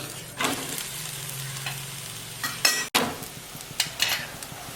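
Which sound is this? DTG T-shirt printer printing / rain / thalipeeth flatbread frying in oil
thalipeeth flatbread frying in oil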